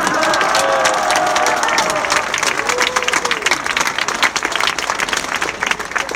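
A large outdoor protest crowd in Poznań, gathered in defence of judicial independence, breaks into sustained applause mixed with cheering, dense and continuous, with a voice faintly audible underneath.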